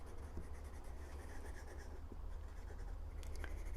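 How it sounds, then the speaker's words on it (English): An eraser rubs across paper in soft, scratchy strokes, faint and close, removing pencil guidelines from a drawing. "I'm going to erase all my guidelines here."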